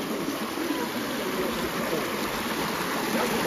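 Stream water flowing steadily on a hiking trail in Mpumalanga, a dense continuous rush and hiss at an even level throughout, heard alone without voices.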